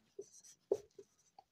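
Pen or chalk writing out the Pythagorean theorem during a trigonometry lesson, heard as a few short, scratchy strokes with brief pauses between them. The strokes are close and quiet, and no one speaks.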